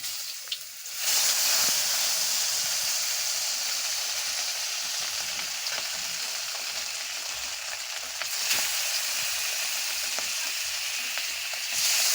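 Fish frying in a pan, a steady broad sizzle that runs continuously and close by, with brief louder surges as the oil spatters and bubbles.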